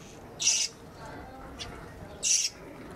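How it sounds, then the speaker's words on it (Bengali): Finches in a flying cage, zebra finches and golden finches, give two short, bright, loud calls about two seconds apart, with a faint chirp between them over a quiet background. "আর এই ফ্লাইং কেজে আমার জ্যাবরারগুলো আছে, সবগুলো এখন অ্যাডাল্ট।"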